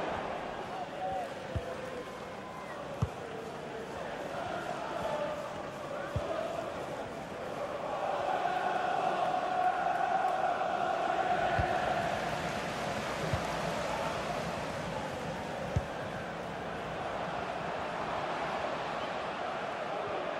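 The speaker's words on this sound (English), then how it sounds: "the crowd are certainly responding to the good play that they're seeing" A stadium crowd in EA FC 25 football gives a broad, sustained roar that swells in the middle and then eases, with a match commentator talking over it.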